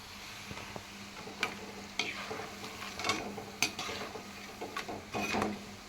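Jantikalu, a murukku-style snack, frying in hot oil with a steady low sizzle and bubbling, broken by sharp clinks and scrapes of a metal utensil stirring the pan, close by and with no voices.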